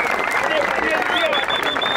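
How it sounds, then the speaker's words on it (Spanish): A crowd at a freestyle rap battle gives a steady wash of applause and cheering, loud and continuous, with voices and a faint whistle-like tone above it. "Un aplauso."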